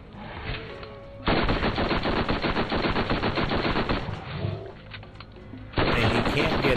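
Fully automatic weapon fire in the video game Borderlands, loud rapid bursts of gunfire with a brief pause in the middle, then another burst at the end, with faint game ambience between.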